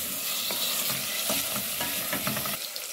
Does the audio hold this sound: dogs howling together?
no